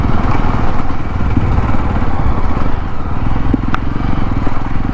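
A motorcycle engine drones loud and close throughout a ride toward Tambdi Surla, a constant rough rumble with wind and road noise and no clear talk.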